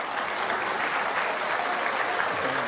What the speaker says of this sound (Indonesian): Kita kasih tepuk tangan untuk kedua kandidat.